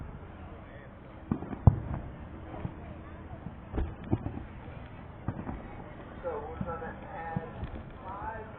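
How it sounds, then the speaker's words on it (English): Fireworks going off at the Maryland state fair, heard as scattered sharp pops and distant bangs spread through the clip, mixed with crowd noise and people talking nearby. "I'm not sure who's gotten off the fireworks"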